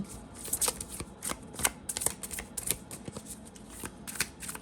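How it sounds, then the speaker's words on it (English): A deck of tarot cards is shuffled by hand close up: rapid, crisp riffling and flicking in repeated bursts, fairly quiet, with no voices. "we're gonna pull some demonic tarot cards"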